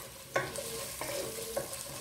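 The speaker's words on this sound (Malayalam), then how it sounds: "എന്നിട്ട് നന്നായിട്ടൊന്ന് വഴറ്റിയെടുക്കുക." Stirring and sautéing with salt in a frying pan while preparing chicken maqlooba, a soft continuous sizzle with three distinct scraping strokes of a utensil against the pan, close and alone.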